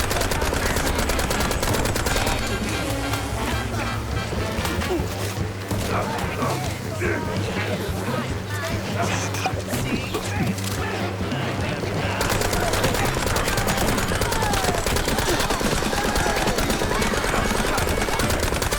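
Rapid, sustained gunfire from the video game Mouse: P.I. For Hire rattles on almost without pause, loud and dense, with short yipping sounds mixed in and a person talking over it.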